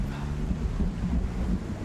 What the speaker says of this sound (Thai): ฝนตกผมหนาวเหลือเกิน